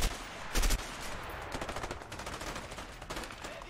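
Rapid gunfire from a shootout in the co-op video game A Way Out, with a loud burst early on followed by a steady rattle of quieter automatic shots.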